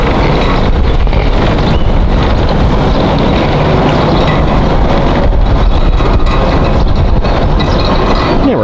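A zoo train ride rolls along its tracks, a steady loud rumble of wheels and carriage noise with wind buffeting the microphone throughout, no voices.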